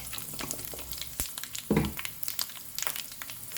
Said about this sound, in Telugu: 1/2 స్పూన్ ఆవాలు, ఎండుమిరపకాయలు, పసుపు వేస్తున్నాను.